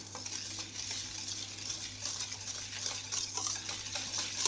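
Melted butter, still warm at about 50 degrees, being stirred with icing sugar in a bowl for butter wafers: a steady, soft scraping swish that continues throughout, fairly close, with no talking.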